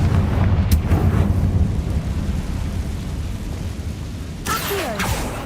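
A Confringo explosive spell in Hogwarts Legacy lands with a deep rumbling blast that rolls on like thunder, followed later by a sharper crackling burst.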